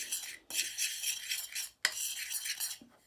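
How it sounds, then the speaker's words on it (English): Minced meat for cevapi sausage being mixed with spices, giving a steady close-up wet scraping and squelching that runs in two long bursts with a brief pause between, no voices present. "we'll mix it up here and we'll try and get it mixed into the meat nice and even"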